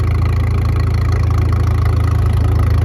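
A John Deere tractor engine idles low and steady at a steam show, a deep even throb with constant rumble, close up and loud with no voices.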